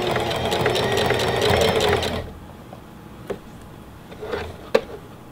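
A Singer Heavy Duty sewing machine stitches a wavy pattern, its rapid mechanical chatter running steadily and close for about two seconds before stopping, then a few sharp isolated clicks and taps follow in quiet.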